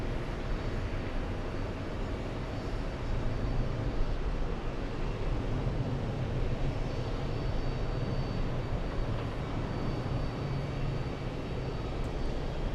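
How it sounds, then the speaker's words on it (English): A Lufthansa Airbus A340-300 arrives from Frankfurt, its jet engines producing a constant broad roar that stays even and fairly loud from start to finish, with no voices. "Lufthansa 404 flying in from Frankfurt"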